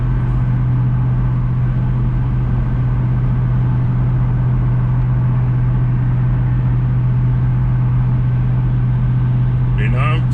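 A 2007 Ford Mustang fitted with an Exedy Mach 400 clutch and lightweight flywheel idles with a loud, steady low engine drone throughout, close to the microphone.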